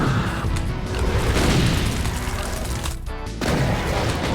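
Rocket explosions in the video game Doom 2, dense loud booms and crashing blasts in rapid succession with a brief lull near the end before more impacts.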